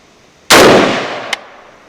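A single sharp, loud report from a DSA 58 FAL rifle with a decaying outdoor echo, followed by a brief metallic ping moments later.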